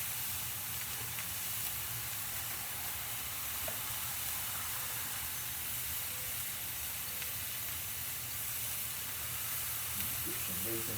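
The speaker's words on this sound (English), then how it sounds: "I'm going to get some bacon on the grill." Bacon strips on a grill heated to medium, a steady, even hiss and sizzle holding level for the whole stretch, close and constant with no pauses.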